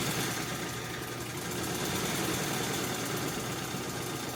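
A sewing machine runs a back stitch through car upholstery for a 1955 Chevy two-door post interior. Its motor gives a steady, continuous whirring hum close by, with no pauses and no talking.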